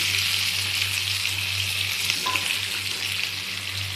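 Onions sizzle steadily in hot oil alongside already-fried whole spices and bay leaf, a loud, continuous frying hiss with a low steady hum underneath and no talking.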